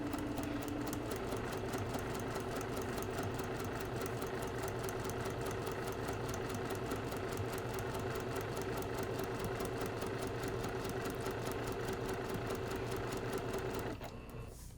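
A sewing machine with a size 80 needle runs continuously at short 1.5 stitch length along dotted quilting lines, a fast even mechanical whirr with rapid needle ticks, slowing to a stop at the very end.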